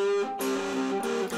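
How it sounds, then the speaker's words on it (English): An electric guitar rings out through a ModTone Speedbox MT-DS distortion pedal with the gain cranked, a distorted, buzzy tone, a few sustained notes and chords with a gritty edge. "the distortion sound is what I would call kind of buzzy"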